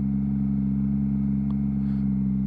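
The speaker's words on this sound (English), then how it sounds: "when I do a U-turn, I'm engaging the revs. I've put them quite high so you can hear it." A motorcycle engine is held at fairly high revs while the clutch is slipped through a slow U-turn, giving a steady, loud, continuous low drone without pauses or voices.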